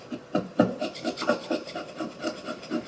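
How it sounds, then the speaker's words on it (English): A chisel rasps back and forth across a wooden workpiece in a carpentry workshop, producing about a dozen rhythmic scraping strokes, close and moderately loud with no talk. "you hold the item like this one and move the chisel like this"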